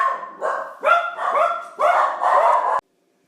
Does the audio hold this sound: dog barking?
yes